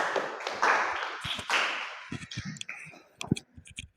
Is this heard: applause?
yes